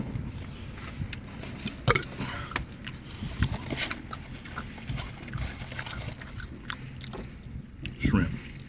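Someone eats a Popeyes chicken sandwich up close, with steady wet chewing and biting sounds running throughout under and between bursts of talk.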